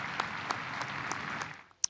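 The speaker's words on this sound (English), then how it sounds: "From those gathered here, as people do every night to pray for the Pope's recovery, a round of applause" Crowd of people gathered at night to pray for the Pope's recovery bursts into a round of applause, steady clapping heard from a middle distance with a few louder individual claps.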